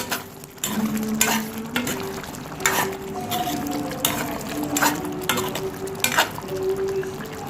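Stingray fish gravy (thirukkai meen kulambu), topped with crushed garlic and pepper, stirred in a pan. Repeated spoon scrapes and clanks ring out over a soft simmering sizzle, close and fairly loud, with no voices.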